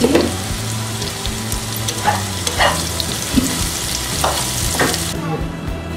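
Chopped onions with a little salt fry in oil into crispy birista for chicken haleem, a dense continuous sizzle close up, broken by several scraping stirs against the pan.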